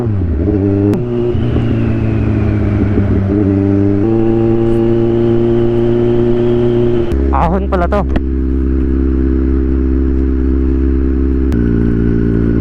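A small motorcycle engine labors uphill on a rough rural road, droning steadily with rising and shifting pitch and a brief rev midway, loud and close, with a rider speaking briefly over it.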